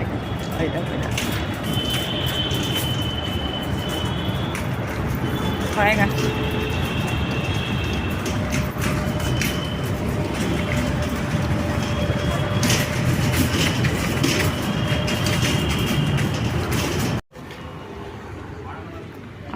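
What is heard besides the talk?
metro train passing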